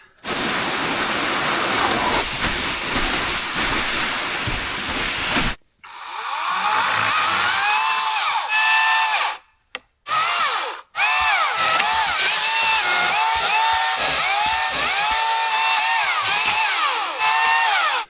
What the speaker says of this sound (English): I'm gonna grab the sled and the chainsaw. We'll cut some rounds.